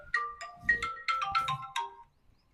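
A mobile phone ringtone for an incoming call plays a short melodic tone pattern of repeated bright notes, moderately faint and alone, stopping after about two seconds.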